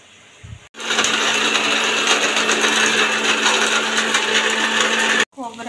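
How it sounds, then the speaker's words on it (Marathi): An electric mixer grinder whirs loudly and steadily for about four and a half seconds, pulverizing peanuts, coconut, garlic, tomato and onion for a masala, starting abruptly after a brief pause and cutting off sharply. "शेंगदाणे, खोबरं, लसूण, टोमॅटो, कांदा, अद्रक, कोथिंबीर सगळं मिक्सरमधून काढून घ्यायचं वेगवेगळं."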